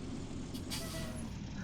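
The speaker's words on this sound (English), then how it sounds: "Look, listen to that. It's got the air brakes." An air-brake hiss bursts briefly from an old truck, a short airy release over a low, steady engine rumble, fairly faint and close by.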